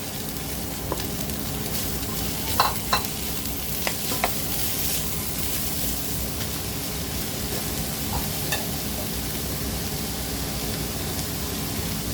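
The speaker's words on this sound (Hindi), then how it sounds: "अभी सारे वेजिटेबल डालेंगे और अच्छे से भूनेंगे" Vegetables for a chicken spring roll filling stir-fry in a pan, giving a steady broad sizzle with a few scattered clinks and scrapes from stirring throughout, no voices.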